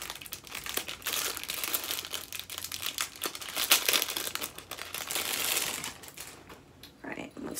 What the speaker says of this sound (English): let's take it out of the plastic and try it on for you all